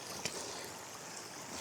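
Water splashes and trickles as e-bikes are walked through a backcountry stream, a soft continuous wash with one brief splash near the start.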